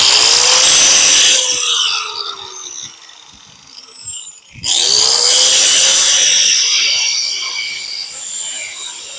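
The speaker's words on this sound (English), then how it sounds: "I want to go ahead and cut that weld loose right here at the bottom" A power tool cuts a weld loose on metal, loud and close with a rising high whine that drops off halfway as the tool stops briefly, then spins up again and runs steadily.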